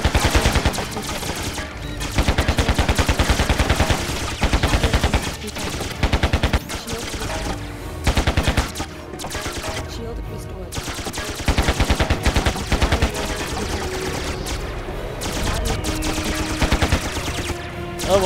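Machine-gun fire in the combat game Carrier Command: Gaea Mission, loud rapid bursts recurring every few seconds over a constant background rumble, with heavier clusters of shots toward the middle and end.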